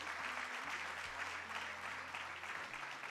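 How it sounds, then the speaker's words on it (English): Sustained audience applause at a school annual day celebration, dense even clapping from a crowd held steady throughout, with a faint low hum underneath. "So one round of applause for my teachers."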